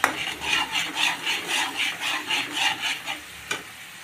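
Fish frying with chicken masala in a pan, with a steady sizzle and rhythmic stirring scrapes repeating close by, plus a sharper clink near the end; no talking.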